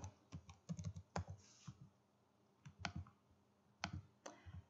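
Keystrokes on a computer keyboard as a word is typed into design software, arriving in short irregular bursts of close, crisp clicks separated by brief pauses, with no voices over them.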